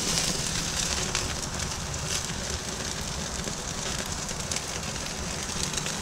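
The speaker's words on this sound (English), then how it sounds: "Of course it's flaring up, but that's good. We're all we're doing is searing." Tomahawk ribeye searing on a flaring grill, a dense, loud, continuous crackling roar of fat and flame that holds steady throughout, without talk.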